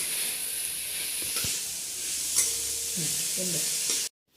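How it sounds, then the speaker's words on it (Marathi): Chhena paneer and sugar being stirred in a pan for barfi give a close, continuous sizzle with a few spatula scrapes, lasting about four seconds before cutting to silence. "एक वाटी पनीरसाठी एक वाटी साखर आणि ते वडी होईपर्यंत हलवायचं"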